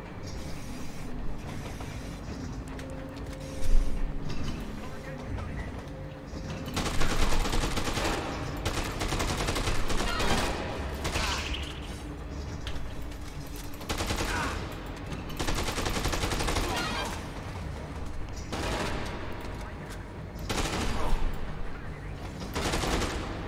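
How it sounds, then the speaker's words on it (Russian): Automatic rifle fire in the video game Dead Rising 2, aboard a train, with repeated loud bursts of rapid shots broken by short pauses over a constant rumbling background. "Но автомат тоже неплохо работает."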